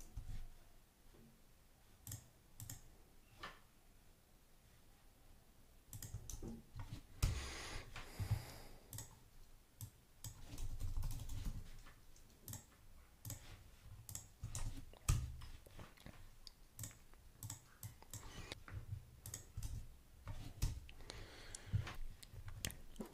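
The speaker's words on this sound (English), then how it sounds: "I'm just going to type in all my keys." API keys are typed on a computer keyboard as quiet, irregular clicks and taps, sometimes in quick clusters, against a faint room background.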